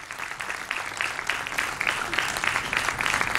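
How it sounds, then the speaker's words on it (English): An audience claps steadily as guests are welcomed onstage at a press conference, a dense, even round of applause that holds for a few seconds with no voices over it. "May I please welcome, with a big round of applause"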